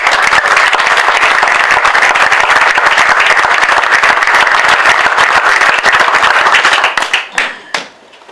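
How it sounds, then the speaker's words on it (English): An audience applauds at Hoboken's State of the City address, a dense, loud burst of clapping that holds steady for about seven seconds before dying away into a few scattered claps. "Let's give them a round of applause"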